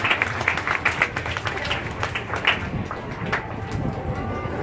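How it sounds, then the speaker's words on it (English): An audience applauds at a dolphin show at Gulfarium Marine Adventure Park in Destin, Florida: dense, steady clapping from a crowd with a few sharper claps standing out, continuing throughout. "Give them a big round of applause for some beautiful songs today."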